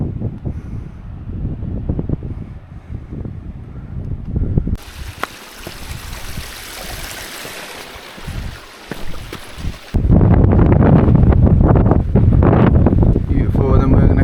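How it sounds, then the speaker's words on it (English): Wind gusts on an open hillside in the Peak District during a wild camping hike, roaring and buffeting the microphone in loud uneven bursts that strengthen toward the end, with a person talking throughout. "It's a bit windy, you know, but it's fine."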